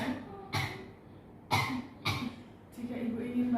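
A woman patient coughs during chest physiotherapy and breathing exercises: four sharp, close coughs at irregular intervals, then a voice begins speaking.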